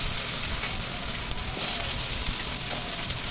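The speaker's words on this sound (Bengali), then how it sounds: "সেই আলুটা এখন ভেজে নেব।" Small-cut potatoes frying in hot mustard oil, a dense, loud, continuous sizzle heard close with no pauses.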